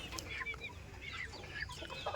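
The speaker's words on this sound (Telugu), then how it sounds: "ఇవి గోవా జాతికి సంబంధించినట్టండి. ఇందులో 9 పుంజులు 5 పెట్టెలు అయితే ఉన్నాయండి." A pen of young Goa-breed chickens, nine roosters and five hens, cluck and chirp in quick, scattered calls close by, several birds overlapping, over soft background noise.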